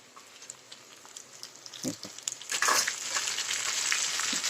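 Tomatoes dropped into hot oil for a chana dal masala, a quiet start followed by a burst of loud frying sizzle that keeps crackling steadily, with stirring sounds, close up.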